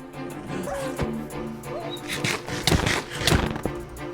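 Armored dogs barking in a multiplayer video game: repeated yips and barks mixed into dense, loud game sound throughout, with no pause.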